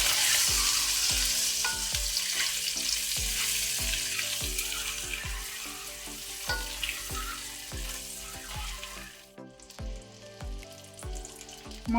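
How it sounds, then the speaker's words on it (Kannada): Eggs frying on a low flame with turmeric and chilli powder in a cooking pot, a loud steady sizzle with repeated stirring scrapes throughout that eases off near the end. "ಲೋ ಫ್ಲೇಮಲ್ಲಿ ಫ್ರೈ ಮಾಡ್ಕೊಳ್ತೇನೆ"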